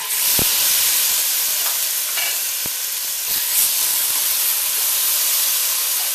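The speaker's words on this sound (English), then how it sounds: "That's music to my ears, that's sizzle." Steady, loud sizzling and hissing of chicken frying in a hot pot for Caribbean stew chicken, with a few sharp pops and crackles scattered throughout.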